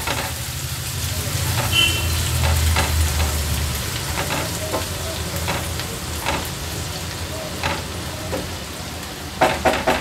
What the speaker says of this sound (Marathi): कांदा लो फ्लेमवर आपल्याला छान शिजवून घ्यायचा आहे।